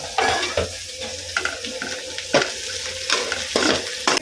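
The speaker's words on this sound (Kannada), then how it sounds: "ಹಸಿಮೆಣಸಿನ್ಕಾಯಿ ಹಾಕ್ಕೊತಾ ಇದ್ದೀನಿ ಗೈಸ್." Green chilies fry in a pan with a close sizzle, broken by irregular stirring scrapes and clatters.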